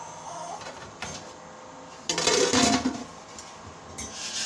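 A metal lid set onto a cooking pot of rice, giving a clattering clink of metal on metal with a short scrape, followed by a softer knock, close by in a quiet kitchen.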